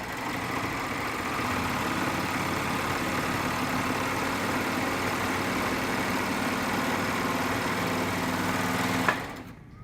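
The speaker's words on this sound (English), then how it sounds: "I'll lay them together like that. And put them back in my serger like this." A serger runs in a close, steady, rapid hum as it stitches t-shirt quilt blocks together for about nine seconds, then stops abruptly.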